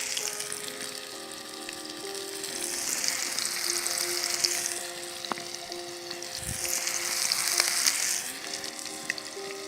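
Pike nuggets frying in a pan until golden, a steady close sizzle and crackle with occasional sharp pops and a brief clatter, no voices.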